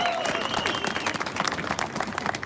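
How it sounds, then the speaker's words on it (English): An audience applauds the speakers at a rally against a family and care referendum, a brief burst of dense clapping and crowd noise with a whistle or cheer at the start, fairly loud and continuous. "big round of applause for all our speakers today, please"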